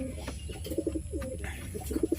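Pigeons kept for sale coo close by in soft, throaty, repeated bursts, several calls overlapping with light background rustle.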